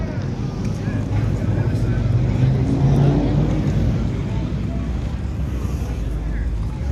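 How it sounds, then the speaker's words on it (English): An old-school truck engine rumbles low and steady at an outdoor car show in Bakersfield, with wind buffeting the microphone and people talking nearby. "They're gonna start it out right now so they can take off."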